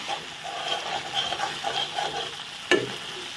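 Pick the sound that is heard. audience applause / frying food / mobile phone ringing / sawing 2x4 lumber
frying food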